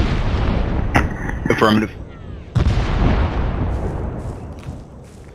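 An artillery fire mission of five rounds lets heavy booms and blasts crack out in quick bursts, with a loud rumbling tail. A voice briefly answers over a radio between the shots.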